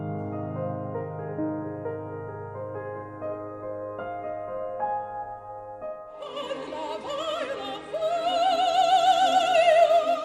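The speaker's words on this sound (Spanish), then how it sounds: "una melodía pentatónica con ritmo de barcarola para darle ese carácter acuático" A gentle, lilting orchestral passage gives way to soaring operatic voices singing a simple flowing pentatonic melody over a swaying barcarolle accompaniment, with no speech; from Wagner's Ring of the Nibelung.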